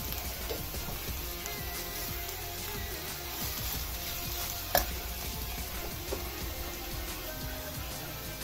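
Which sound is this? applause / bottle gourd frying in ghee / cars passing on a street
bottle gourd frying in ghee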